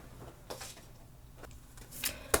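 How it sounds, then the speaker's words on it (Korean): A tarot card is drawn from the deck: a few soft, papery brushes and slides, then a sharper flick and snap near the end, close by and quiet, with no talk. "카드를 한 장 더 뽑아보도록 할게요."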